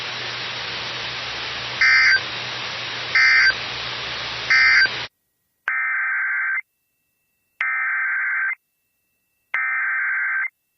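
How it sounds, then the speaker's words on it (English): A NOAA weather radio warning alarm device sounds during a weekly test: steady static with three brief bursts, then a loud pure tone pulsing on and off three times in a regular rhythm with silent gaps. "This has been a test of the NOAA weather radio warning alarm device."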